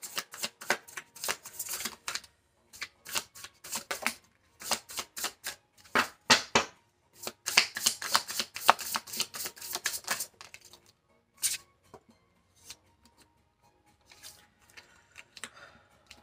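Tarot cards being shuffled close up, with rapid bursts of riffling and flicking that come in uneven runs, then fade to a few scattered taps and near silence toward the end.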